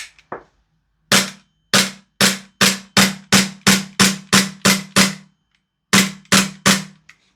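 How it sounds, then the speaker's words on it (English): A PTS ZEV OZ9 Elite gas blowback airsoft pistol is dry fired in a quick series of about a dozen sharp, loud snapping clacks at a steady rhythm, with a brief pause before the last few shots. "Let's do a bit of a dry fire."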